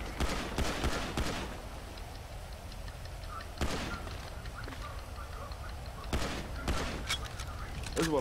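Gunfire in the video game Grand Theft Auto at a pier, sharp bursts of shots in short clusters separated by quieter stretches, with background game noise in between.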